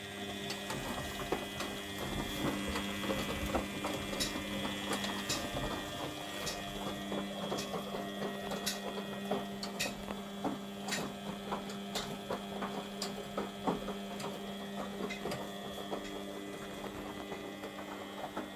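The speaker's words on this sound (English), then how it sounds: "switch tells the brain of the washing machine that it requires more water, so it's starting to put a wee bit more water in." A washing machine running with its back and top covers off, its water valve letting more water in during the wash cycle: a steady electrical hum with ticking, clicking mechanical sounds and a soft hiss of water throughout, with no talk.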